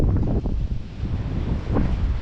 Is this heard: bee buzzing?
no